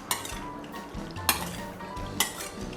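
Pork marinated with fish sauce is tossed in a bowl for lime pork. A utensil scrapes and stirs close by, with three sharp clinks against the bowl at roughly even intervals and no speech.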